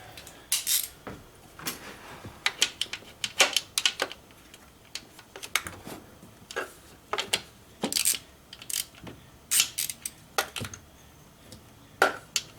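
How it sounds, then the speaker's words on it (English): A hand wrench working a 10mm valve cover bolt on a BMW N54 engine, giving a run of close, irregular ratcheting clicks and metallic ticks in short bursts with small pauses between them, with no talking. "so I'll have to use the wrench"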